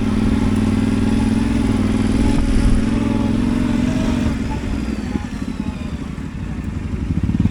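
A Yamaha Tenere 700 adventure motorcycle rumbles steadily while descending a steep hill off-road, a close, continuous low engine drone with some clatter that eases slightly toward the end.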